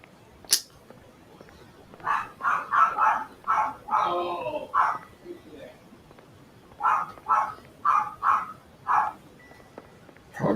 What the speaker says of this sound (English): Probably hear my dog.